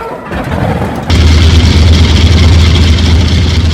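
A Yak-18 aircraft piston engine in the X-Plane 11 flight simulator sputters and catches, then settles into a loud, steady, throbbing idle that drones on without pause.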